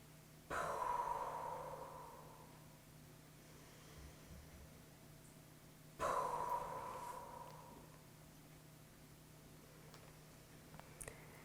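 Two deep, slow breaths during a seated Kundalini yoga exercise, each a long rushing exhale that fades over a couple of seconds, spaced well apart against a quiet room.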